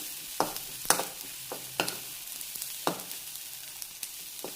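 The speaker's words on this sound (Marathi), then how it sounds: "तर हे चांगलं तेलामध्ये हे वाढलेलं खोबरं आणि शेंगदाण्याचं कूट छानसा भाजून घेऊया." Grated coconut and crushed peanut powder frying in oil while a drumstick vegetable dish is made: a quiet, steady sizzle broken by several sharp scrapes and taps of a spoon stirring in the pan.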